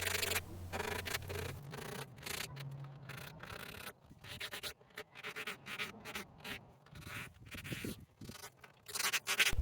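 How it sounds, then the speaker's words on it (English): A vanity being sanded by hand with a small handheld sanding sponge, giving quiet, uneven rubbing and scratching strokes in irregular bursts, close up, with no voices. "I gotta sand those details, and I have like just a handheld little sanding sponge"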